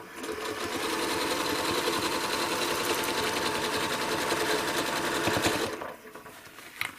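A sewing machine stitches a quilted spiral, a loud rapid steady whir of needle strokes running close up for several seconds before stopping abruptly, followed by quieter handling noise.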